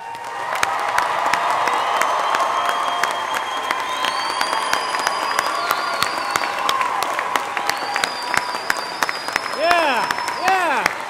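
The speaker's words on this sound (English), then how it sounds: "Look at that, standing round of applause there" Standing ovation from a large audience at a spring commencement ceremony as new graduates move their tassels: dense, sustained clapping with scattered cheers and whoops throughout, and voices calling out over the crowd.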